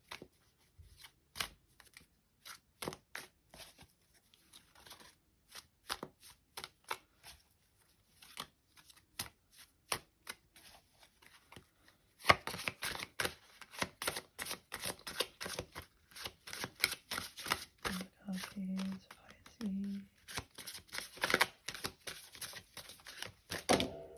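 Tarot cards are shuffled by hand for a reading, with quick papery riffles and taps that come sparse and soft at first, then turn denser and busier partway through, all close and quiet with no talking.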